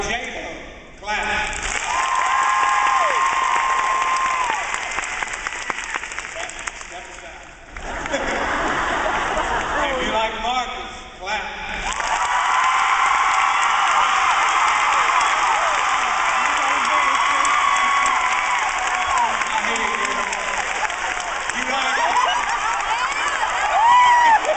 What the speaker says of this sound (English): If you like Jacob, clap